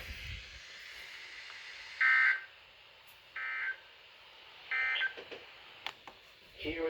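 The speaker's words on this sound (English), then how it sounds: "This concludes the weekly test of the warning alarm." Weekly test warning alarm tones from an Emergency Alert System weather broadcast, three short, evenly spaced electronic beep bursts rising clearly above a faint, hissy radio background.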